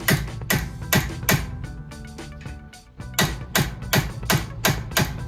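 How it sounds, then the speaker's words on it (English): A punch is struck repeatedly with a hammer to drift a fully adjustable rear sight into the dovetail of a CZ Shadow 2 pistol. The sharp, close metallic blows come in quick bursts, pause briefly, then resume in a steady rhythm. "apply the pressure with the punch in the solid area directly above the dovetail"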